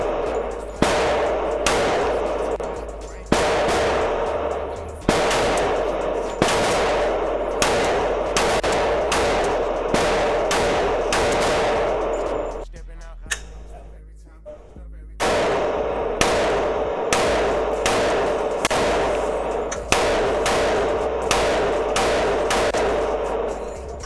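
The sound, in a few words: gunshots at a shooting range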